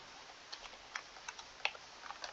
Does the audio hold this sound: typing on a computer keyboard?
yes